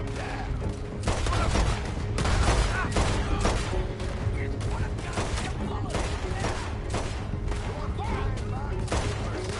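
Guns fire during a stagecoach robbery shootout in Red Dead Redemption. Dense, loud volleys of overlapping shots crack continuously for the whole stretch, with shouting voices mixed in.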